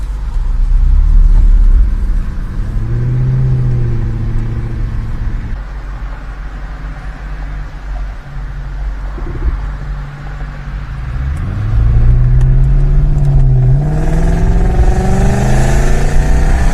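A Subaru WRX STI revs and drives past, its engine note rising and falling in loud sweeping pitch changes, easing off midway before climbing again and fading with the pass.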